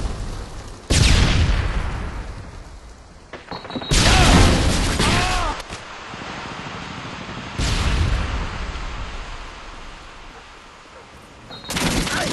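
Blasts from a stun grenade and gunfire in Call of Duty Modern Warfare 2 third-person multiplayer: several loud broadband bursts with ringing tails, spaced a few seconds apart.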